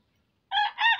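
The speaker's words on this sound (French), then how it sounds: "vous comprenez même, les coqs chantent" A rooster crowing in a village setting near Kinshasa: one clear, fairly close crow starting after half a second of silence, with no talk.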